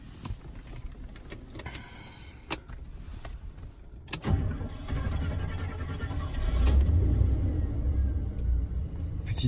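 A Rolls-Royce engine is revved with a quick press of the throttle, its low rumble swelling and holding steady after a few clicks and clunks, heard close from inside the car.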